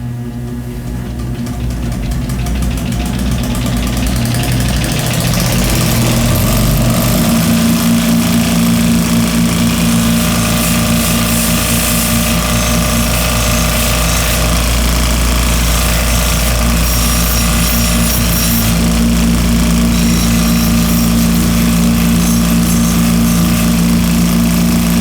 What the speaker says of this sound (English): This is the blue Scotch-Brite belt, and this, what I will do with this one is just blend these scratches out again and blend it into the sole.